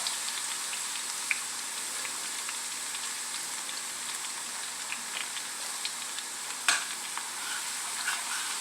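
Chopped garlic cooks in oil over low heat, giving a steady, quiet sizzle and crackle with occasional small pops and one sharper clack, heard alone without talk.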